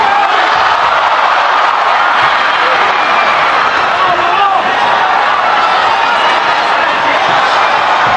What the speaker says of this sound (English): This crowd sensing something special about to happen again as Mathysse goes down to the body.